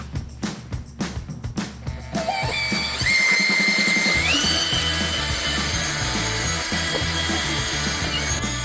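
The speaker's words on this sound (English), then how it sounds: "Now mixing this time, we're going to use the Jiffy mixer" A Jiffy mixer on a power drill blends epoxy, starting with a few short bursts and then running as a steady whirring drone, with a pitch that climbs as the drill speeds up.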